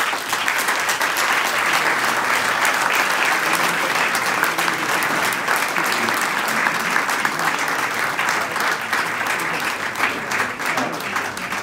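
Sustained, loud applause fills a university hall at an inauguration ceremony for the new academic year, steady and dense throughout with no pauses.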